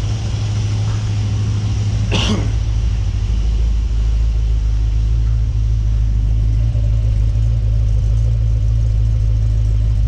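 A Ford XG ute engine idles steadily up close with a deep, even rumble throughout, broken once by a brief sharp noise partway through.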